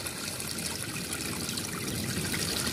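Water is poured slowly and steadily onto potting soil prepared for a lotus plant, a continuous soft trickling and splashing that stays even and close throughout, with no voices.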